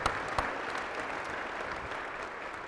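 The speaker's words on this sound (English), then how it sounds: "think we need to give them a round of applause" An audience at a city State of the City address gives a round of applause, dense steady clapping throughout with no talk over it.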